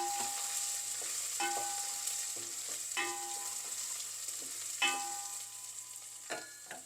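Dried red chillies and green chillies frying in hot oil in a pan for lemon rice, a steady close sizzle with several sharper crackles and spatters, no voices.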